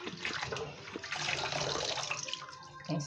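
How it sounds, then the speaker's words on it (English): Tap water runs steadily into a sink while water leaf greens are washed clean by hand, a continuous close splashing rush with no talk. "what I'm doing is washing the water leaf to make it clean"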